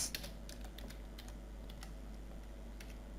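Fingers type on a computer keyboard, producing a quick burst of close, crisp key clicks at the start and then scattered taps over a low steady hum, no talking.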